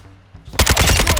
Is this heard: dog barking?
no